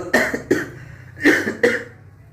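Four harsh coughs in two quick pairs, close and loud, separated by a short pause.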